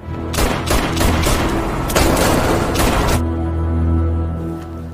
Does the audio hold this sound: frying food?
no